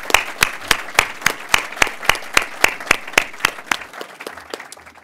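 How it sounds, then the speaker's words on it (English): Rhythmic, evenly spaced clapping from an audience honoring distinguished guests at a GM Detroit-Hamtramck assembly plant event, steady beats fading slightly toward the end, moderately close with no talk over it. "Please give a round of applause for all of our distinguished guests"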